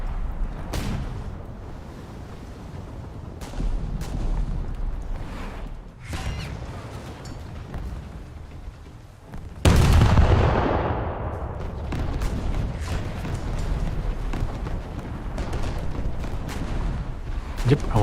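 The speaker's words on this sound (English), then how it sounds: "He's firing rockets at me" Rocket fire from a Russian cruiser in a naval game, repeated booming launches with one heavy blast followed by a long rushing roar, over a continuous rumbling background.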